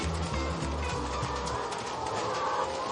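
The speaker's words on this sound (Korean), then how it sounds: "닭이 목청껏 우는 소리와 함께" Chickens clucking and calling at dawn over a dense, steady roar of a crowded poultry farm house, with overlapping bird noises throughout.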